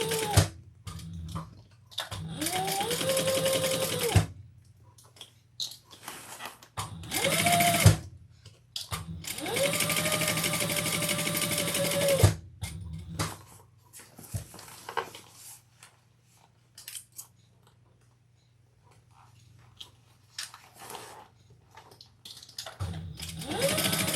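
Sewing machine stitching a leather and vinyl crossbody bag, running in several bursts of steady whirring with rhythmic needle thumps, separated by quiet pauses and small handling clicks, close and fairly loud with no talk.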